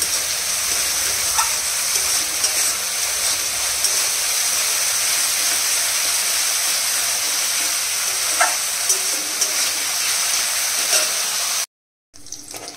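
Masala paste with turmeric frying in a pan, a steady, even sizzle that runs continuously and fairly loud, cutting off briefly near the end.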